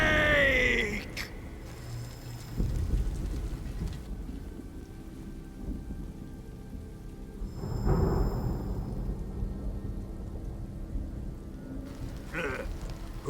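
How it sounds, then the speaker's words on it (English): Thunder rumbles in the Metal Gear Solid Delta: Snake Eater game over a background of rain, with two deep low booms and a fainter third near the end. "Who's afraid of a little thunder?"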